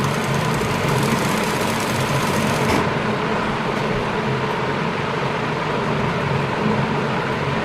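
Sewing machine stitching a blouse, a steady loud continuous mechanical whirr throughout with a slight change in tone partway through, no voices.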